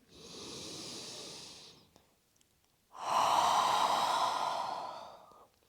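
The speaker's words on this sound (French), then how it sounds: "Expirez par la bouche. Inspirez." Yoga breathing: a soft, long exhale through the mouth, a pause, then a longer, fuller inhale, close and alone, with no talking.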